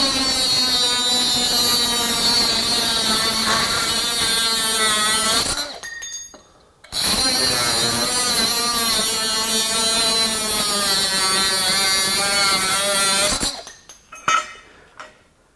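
Ryobi ONE+ HP 18V brushless cut-off tool grinding through 1.5 inch steel angle iron in a workshop, a loud, steady high-pitched metallic shriek in two long cuts of about six seconds each, separated by brief pauses and followed by some clatter.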